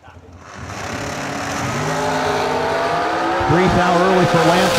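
Drag race cars launching side by side at a bracket race, engines building from a low rumble into a loud sustained roar with rising revs, under an announcer's voice.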